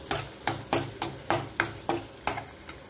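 Onion-tomato gravy for paneer is stirred and sautéed in hot oil with mustard seeds and garlic-ginger paste, heard as regular scraping strokes against the pan about every quarter second over a low sizzle. No talking.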